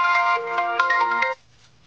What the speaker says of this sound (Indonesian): Dan pada HP Oppo berbunyi ya.